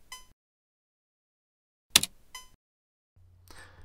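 Spacebar on a C64 Mini keyboard pressed with a sharp click and a soft springing-back tap, followed after a pause by a brief electronic ding from a program, faint and close with no talk.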